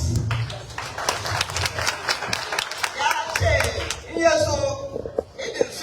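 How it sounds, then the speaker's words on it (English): Scattered hand claps sound at a Hausa Day lecture gathering, sharp separate slaps in an uneven rhythm mixed with crowd noise, while voices talk and call out over them. "I need applause"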